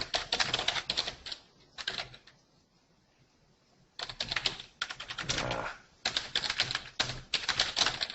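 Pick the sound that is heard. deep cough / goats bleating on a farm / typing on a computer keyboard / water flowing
typing on a computer keyboard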